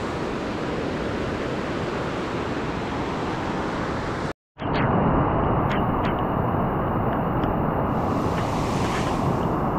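River water pouring over blocks at Garjiya Devi temple, a loud, dense, unbroken roar filling the scene, with a brief dropout midway and a few light clicks over the rush.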